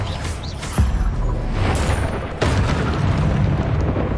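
Confringo fire spell blast in a Harry Potter video game, a loud booming explosion with a sharp hit near the start, a second burst partway through, and a rumbling roar sustained throughout.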